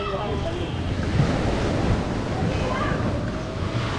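Surf washing onto Alona Beach in Bohol, a steady broadband wash with wind buffeting the microphone, rolling on continuously and fairly loud throughout with no clear break between waves.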